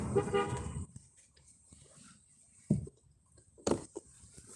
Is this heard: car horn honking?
yes